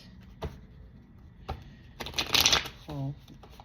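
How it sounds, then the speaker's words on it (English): Tarot cards are shuffled close up, a few soft taps and riffles building to a brisk flurry of card flicks, with a brief voice sound near the end. "Let's just pull 2 tarot cards"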